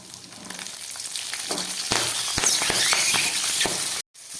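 Green peas sizzle and fry in a hot pan, a steady bright hiss with a few soft clinks of stirring, loud and close, ending in a brief sudden gap.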